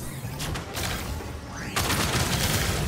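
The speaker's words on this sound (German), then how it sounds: "Das sind übrigens die Minen, jetzt die Explosion." Mines go off in the video game Outcast 2, a burst of explosions with rattling crackle that swells louder toward the end, heard on its own.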